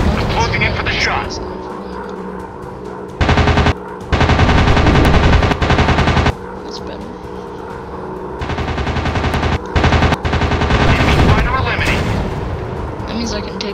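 Fighter plane machine guns fire in the Warplanes video game: long loud bursts of rapid fire stop and start over a constant engine drone, with speech mixed in.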